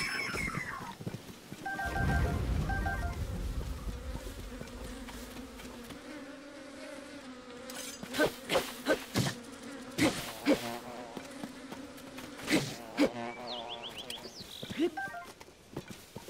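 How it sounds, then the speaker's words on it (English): Bees buzz in Tears of the Kingdom, a steady droning hum running through most of the stretch, overlaid by sharp repeated striking hits and game effects, with a person talking over parts of it. "I probably shouldn't do that because it's not good for the environment, you know, striking bees like that"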